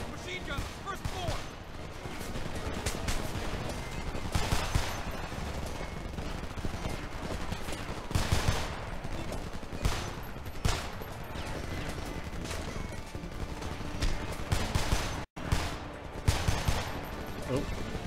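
Machine guns fire in Homefront, with dense rattling bursts and scattered shots running continuously and loudly, under intermittent talking.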